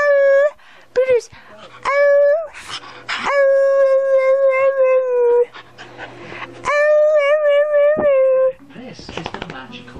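An excited puppy lets out long rising howls and yips close by, broken by short whimpers and gaps, with a person talking in between.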